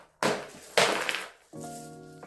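Small leca clay pebbles, dropped while repotting a plant, clatter and rattle in two quick bursts, followed by a brief ringing, tonal clink.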